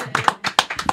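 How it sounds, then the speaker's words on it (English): An audience gives a short burst of applause at a live event, loud and close, with a handful of sharp claps standing out. "More applause."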